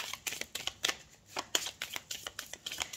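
Tarot cards are shuffled and drawn in a steady run of crisp papery flicks and snaps, close and fairly quiet, with no voice over them.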